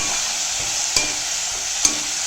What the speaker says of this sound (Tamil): பாகக்காய் சேர்த்து நல்லா உப்பு நம்ம சேர்த்துட்டோம் இதில் நல்லா சுருளை சுருளை நல்லா வதக்கலாம்